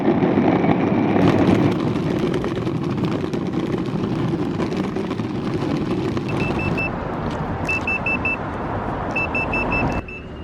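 A Meepo Board 2.0 electric skateboard rolls along with a constant whirring road and wind noise. Short repeated beeps sound in the second half, and the noise drops off sharply at the very end.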